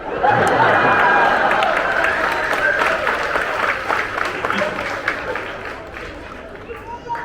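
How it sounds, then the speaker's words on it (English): Loud, sustained applause fills an audience area at a bird show at Disney's Animal Kingdom, with dense clapping mixed with crowd noise and murmuring that fades slightly toward the end. "That was the largest round of applause you had"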